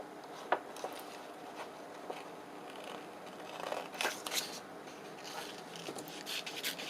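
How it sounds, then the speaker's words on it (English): Paper being cut for a handmade 1950s-style journal, with a few quiet, scattered snips and rustles close by in a faint, hushed room and no talking. "So I'm going to cut that bottom piece off."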